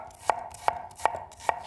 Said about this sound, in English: So cut them in half and then just slice them.